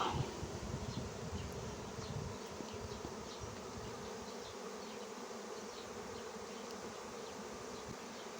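A honeybee swarm flies into a bait hive outdoors, producing a dense continuous buzzing drone that is loudest at the start and stays steady throughout, with no talking.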